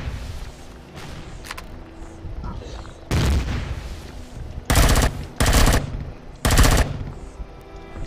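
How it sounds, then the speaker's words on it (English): Machine gun fire in the space survival video game Empyrion - Galactic Survival, with several loud, sharp bursts of rapid shots over a low rumbling background. "let's put on our machine guns"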